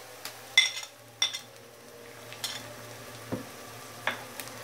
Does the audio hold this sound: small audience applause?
no